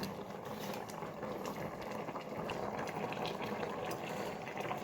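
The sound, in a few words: fried fish added to simmering mixed vegetable curry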